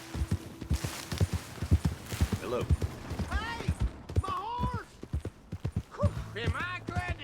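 Horse hooves clip-clopping in Red Dead Redemption 2, a rhythmic series of close hoofbeats on hard ground, with people talking over them and shouted exchanges throughout.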